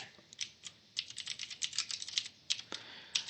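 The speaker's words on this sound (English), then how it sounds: "So I'm going to go ahead and type standard" Quick, light clicks of typing on a computer keyboard, an irregular patter of keystrokes in short bursts, close and fairly quiet with no talking.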